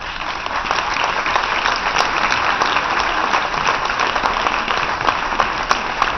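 Steady, full applause from an audience in a hall as choral artists go on stage at an equality summit, even and continuous for several seconds with a few sharper claps standing out.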